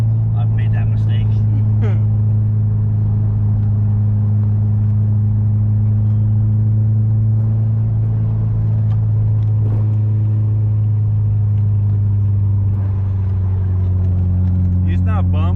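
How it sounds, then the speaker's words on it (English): Honda S2000 sports car with a 2.2-liter engine cruising, its low steady engine drone and road rumble running constantly beneath people talking throughout. "Y'all listen to how good that engine sounds."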